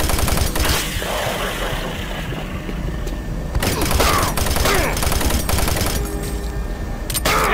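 Gunfire in the horror shooter Doom 3, loud rapid bursts and sharp blasts that repeat through the stretch, layered over a busy game soundscape with no talking.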